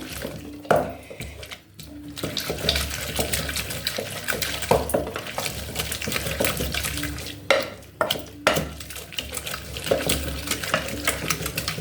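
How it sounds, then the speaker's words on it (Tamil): Cooked greens are mashed with a wooden churner right inside a pressure cooker, giving repeated wet squelching and stirring scrapes with occasional knocks against the metal pot, close and steady, with no talk. "இப்படி குக்கர்லேயே வச்சு நல்லா கடைஞ்சிடுவோம்"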